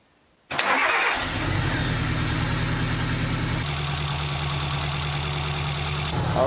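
A Suzuki Samurai engine, newly converted to Microsquirt fuel injection, cranks briefly and catches, then settles into a loud, steady idle with a smooth, even rumble and no talking.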